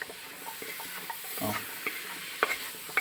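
Potatoes coated in masala for a potato curry are stirred in a hot pan, giving a soft continuous sizzle with close scraping and clinking strokes of the spoon, no voices.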